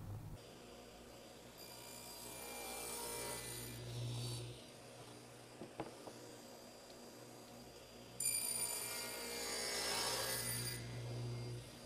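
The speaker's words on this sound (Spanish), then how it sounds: "darle una lijada a la moldura y una lijada completamente a la puerta" A wooden MDF door and its moulding are sanded by hand in two sustained bursts of scratchy, rasping friction, separated by a quieter pause with a few small knocks.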